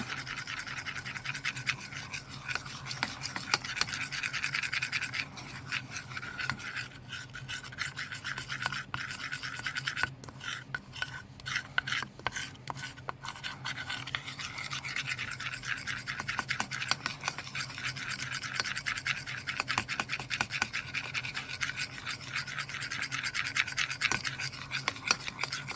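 Homemade gesso of plaster of Paris and white paint is stirred in a container, making close, continuous scraping and rubbing sounds with an uneven rhythm. No one speaks.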